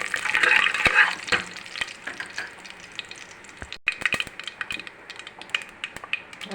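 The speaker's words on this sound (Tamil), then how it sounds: "அது எண்ணெயில் போடுறது பட்டை, லவங்கம், ஏலக்காய், சோம்பு எல்லாம் ஒரு 3 போட்டுக்கணும்." Cinnamon, cloves, cardamom and fennel fry in hot oil, crackling and sizzling with a bright hiss early on, then scattered pops and stirring clicks that settle to a quieter sputter.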